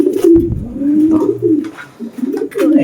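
Pigeons cooing inside a loft, close and loud, with repeated low throaty coos that overlap in an uneven rhythm, plus a few soft shuffling sounds.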